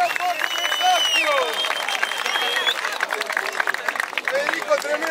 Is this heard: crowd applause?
yes